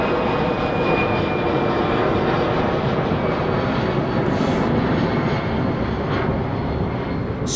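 Jet aircraft engine roar at London Heathrow Airport, a Qatar Emiri government plane on the private terminal pad, a steady broadband rumble filling the whole stretch with no talk over it.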